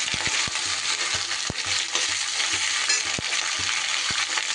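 Loud, continuous sizzling of chopped onion stalks frying in a hot pan, with occasional sharp clicks and stirring scrapes throughout.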